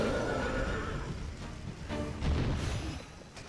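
A horse neighs loudly in the video game Wo Long: Fallen Dynasty, a long whinny up close, followed by game combat thuds and impacts.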